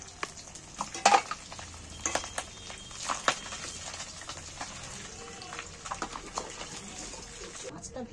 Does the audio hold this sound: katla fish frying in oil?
yes